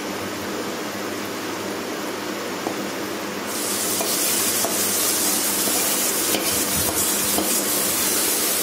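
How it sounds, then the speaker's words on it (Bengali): Boiled red spinach tossed with spices in a hot pan, a steady loud sizzle with soft scraping of the stirring utensil, growing brighter partway through and continuing without speech. "এবার আমরা শাকটাকে ভালো করে মশলার সাথে মিশিয়ে ভেজে নেব"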